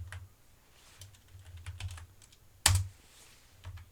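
A computer keyboard being used for an Alt H shortcut gives soft scattered key taps followed by one sharp, louder key press, close and quiet.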